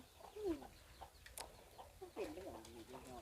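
Chickens cluck softly in short, uneven bursts, with a louder wavering call near the end, over faint background noise.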